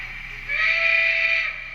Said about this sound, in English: when I'm turning this off, I just power that off and wait for it to blow the whistle once